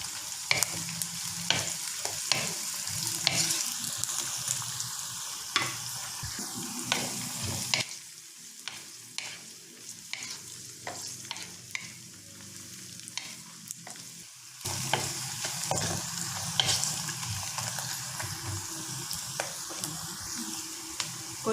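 Ginger, garlic and salt fry and get stirred in hot oil for a mutton curry, with steady close sizzling and repeated scraping stir strokes; the sizzle drops quieter midway, then returns loud.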